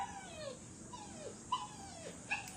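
A dog whimpers in a series of thin, high, falling whines, close but soft, with no talk, as it is about to be given a bath.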